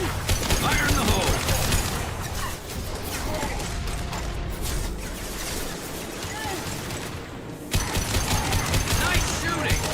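Dense, sustained gunfire and weapon mechanisms clatter in a Mass Effect 2 firefight, a rapid crackling barrage with a brief drop-out before resuming loudly, with talk mixed in.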